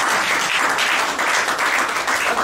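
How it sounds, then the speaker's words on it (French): A loud, dense burst of audience applause at a community gathering, steady and sustained throughout with no break and no voices on top. "Il faut applaudir ça"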